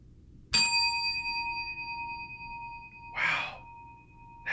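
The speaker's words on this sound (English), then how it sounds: "Or they'll go to a bell and they'll just ring it for no reason." A single bell is struck once, sharply and close, and its clear tone rings on and slowly fades; a breathy sigh or voice briefly cuts in partway through.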